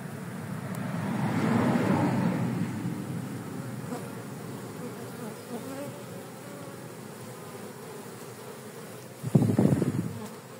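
Honeybees buzz around a polystyrene hive box during the first hive inspection of the year. The dense droning swarm swells loudest at the start, then settles into a steady hum, with a brief louder burst near the end.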